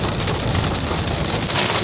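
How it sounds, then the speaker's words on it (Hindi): Heavy rain pours down at a farm in an Amish village in Pennsylvania, a dense, steady hiss of drops on surfaces that stays loud and unbroken throughout, with no talking. "बारिशों की जोर"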